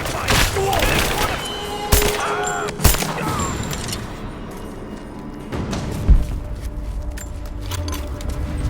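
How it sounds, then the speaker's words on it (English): Gunfire in the Rise of the Tomb Raider video game, with sharp shots and bursts scattered through a busy battle mix while voices call out in the background. "I'm taking fire!"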